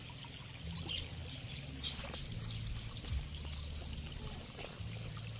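Strong flowing water at a tilapia fish farm, a soft continuous trickling and pouring rush heard from a little distance, faint and steady throughout.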